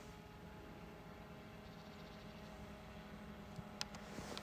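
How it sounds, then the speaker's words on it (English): An Autel drone flies at a distance, giving a faint, steady whirring hum throughout. A couple of small clicks break through near the end. "The drone is constantly in my view."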